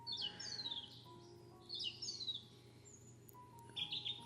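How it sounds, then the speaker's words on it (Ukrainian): Birds chirp and trill in short bursts, with quiet pauses between, over a faint steady background hum. "співають пташки, тиша, нічого не бахкає."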